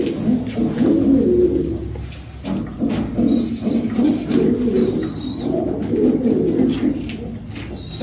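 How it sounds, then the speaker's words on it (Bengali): Kaldama pigeons coo in low, rolling, repeated calls close by. Light chirps and a brief wing flutter sound in the background. "এই যে দেখো কালুমা পায়রা রয়েছে,"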